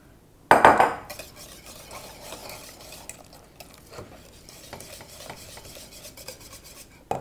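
Spoon scraping and stirring shredded cheese into a pot of bechamel sauce for Greek pastitsio, opening with a sharp metallic clatter, then steady soft rasping strokes close by with no talking.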